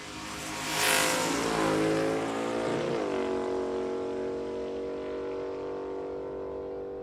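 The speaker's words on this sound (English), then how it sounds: "Nice wheels up launch for Chris Van Worden." A 1967 Chevrolet Nova drag car with hubcaps launches wheels-up at a drag strip, its engine roaring loudly and rising in pitch, then holding a steady, fading drone as it pulls away down the track.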